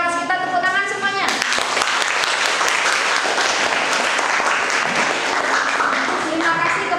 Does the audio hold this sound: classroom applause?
yes